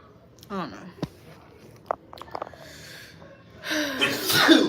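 A single sharp sneeze bursts out near the end of a stretch of casual conversation, with a few small breaths and mouth noises before it.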